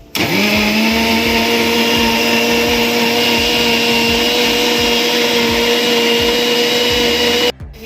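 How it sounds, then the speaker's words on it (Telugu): A mixer grinder blending ice apple juice, a loud, steady high-pitched motor whine with rattling contents that runs continuously, then cuts off abruptly near the end. "నేను మిక్సీ చేసేస్తున్నాను"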